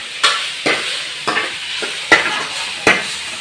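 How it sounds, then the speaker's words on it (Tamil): Onions and tomatoes, cooked down to a pulp for a village-style fish curry, sizzle in a pan while a spatula scrapes through them in about six regular, distinct strokes, close and fairly loud. "வெங்காயம் தக்காளி நல்லா கூழ் மாதிரி வதங்கிச்சு"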